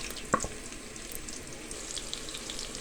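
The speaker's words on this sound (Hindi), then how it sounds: "प्याज को हल्का सा ब्राउन करेंगे" Chopped onions frying in a pan for a traditional tinda and mutton curry, a soft, continuous sizzle and hiss with one sharp clink early on, quiet and steady throughout.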